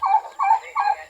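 A turkey gobbling, three quick rattling bursts close by in a farmyard where pigs and ducks are kept, loud and clear with no voices.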